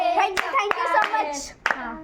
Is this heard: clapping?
yes